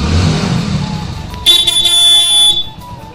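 A vehicle being started during a Vishwakarma puja gives a low rumble that gives way to a sharp, steady high electronic tone, like a horn or alarm, lasting about a second before cutting off.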